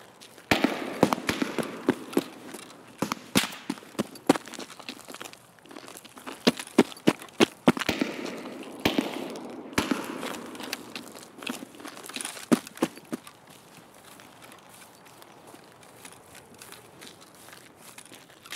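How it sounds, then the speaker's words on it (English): Scattered distant gunshots from a sniper scav in Escape from Tarkov, sharp isolated cracks at irregular intervals, some in quick pairs, fading to sparse shots over a quiet background. "Another sniper scav. He's shooting at somebody."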